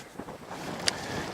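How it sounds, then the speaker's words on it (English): A steady headwind buffets the microphone in a low, steady rumble at Shoreline Park, Mountain View, California, with a brief sharp tick partway through. "I apologize for that wind noise."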